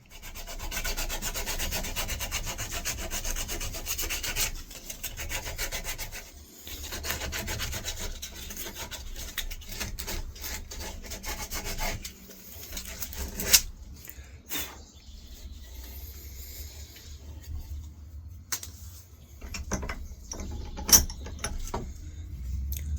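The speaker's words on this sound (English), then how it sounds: "get this all sanded down and see what sort of a pattern we get" Hand sanding of a wooden walking stick, a steady scratchy rubbing that runs continuously with slight shifts in stroke and pressure, close and moderately loud, with no talking.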